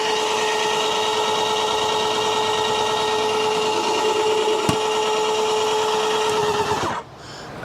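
A Graco GX 19 cordless paint sprayer runs outdoors with a loud, steady motor whine holding constant pitch, a single sharp click partway through, then cutting off abruptly near the end.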